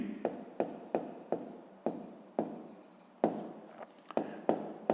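A math exercise is written by hand, with quick pen or pencil strokes scratching in short, irregular bursts across the page, close and crisp.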